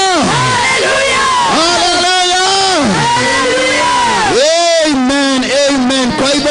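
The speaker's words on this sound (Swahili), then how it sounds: "Tumkaribishe, tupige shangwe vizuri in the mighty name of Jesus katika jina la Yesu." A church congregation at a live service cheers, whoops and ululates loudly in rising and falling vocal bursts, with shouting voices close and continuous.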